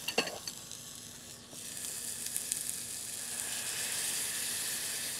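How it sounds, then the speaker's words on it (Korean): Tomatoes sizzle steadily as they are stir-fried in a pan, a continuous close hiss with a few soft clicks from stirring. "이제 볶인다는 느낌으로 어느 정도 이제 뭉글뭉글해지죠"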